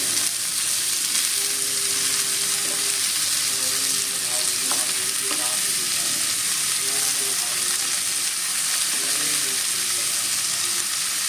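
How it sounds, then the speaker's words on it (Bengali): Ash gourd fries in a pan with fried lentil dumplings under a loud, continuous close sizzle, while a spatula stirs in scattered scraping strokes; no one speaks. "চাল কুমড়োটা আমি একটু নেড়ে দেবো"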